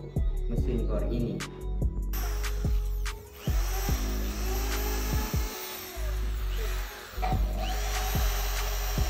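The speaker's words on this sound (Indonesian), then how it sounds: "mari kita coba untuk mesin bor ini" A Hyuga 10mm power drill whines up close in repeated runs, with the motor revving, cutting off briefly and spinning up again against a busy background.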